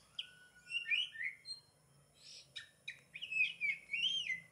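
An oriental magpie-robin (kacer, black-breasted) sings alone in varied, clear whistled phrases and chirps, coming in bursts with short pauses between them.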